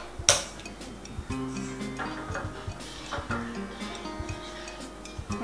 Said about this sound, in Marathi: ती लागू नये म्हणून मी सारखी ढवळते आहे